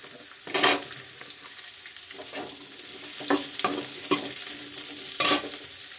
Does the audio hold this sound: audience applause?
no